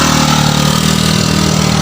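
A motor tricycle engine idles at a stop on a flood-damaged road, a loud, steady close-up chugging drone with no pause.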